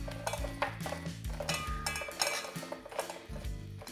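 A spoon clinks and scrapes around a bowl as sugar is mixed into sliced sweet peaches, quick irregular metallic taps and stirs at close range, quiet and without talk.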